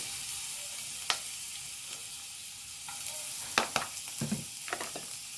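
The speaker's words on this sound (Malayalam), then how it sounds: "ഇനി ഇതിലേക്ക് കുറച്ച് ഇഞ്ചി വെളുത്തുള്ളിയാണ് ഇട്ട് കൊടുക്കുന്നത്" Chopped ginger and garlic fry in hot oil in a pan, giving a steady, even sizzle broken by a few sharp clicks and scrapes of stirring.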